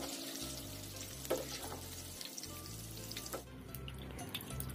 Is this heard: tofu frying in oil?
yes